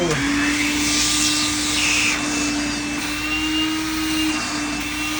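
A Makita DVC750LZ 18V cordless brushless vacuum cleaner runs on speed 2, a loud, steady whooshing drone with a thin high whine, held close and continuous throughout.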